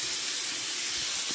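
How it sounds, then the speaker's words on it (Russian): A covered pot of water with spaghetti comes to a boil on a home stove, producing a steady, loud steamy hiss that continues unbroken throughout. "Закипело, теперь я так отправляю спагетти."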